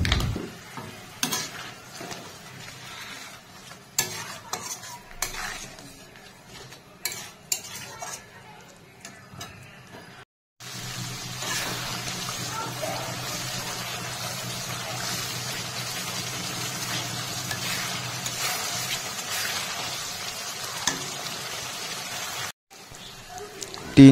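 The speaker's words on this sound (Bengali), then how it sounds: "হালকা জল দিয়ে মশলা ভালো করে কষে নেব" Spice paste sizzling in a pan for Ritha fish curry, first scattered clinks and scrapes of stirring, then a steady close frying hiss that runs to near the end; some talk is mixed in.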